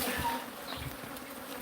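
Killer bees swarming in a video game, a thin buzzing drone with a few brief whistling tones over a low background hum, moderately loud and continuous with no talk.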